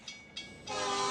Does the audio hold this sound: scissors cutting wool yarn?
no